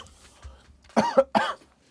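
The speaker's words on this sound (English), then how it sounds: "Sorry, guys, I just had a coughing fit." A person coughs in a short burst of three harsh coughs, close and fairly loud, after a quiet lead-in.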